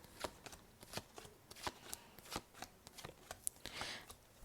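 Tarot cards are drawn and shuffled by hand, with a run of crisp, close-up snaps and riffles that come in quick irregular bursts, soft and without talk.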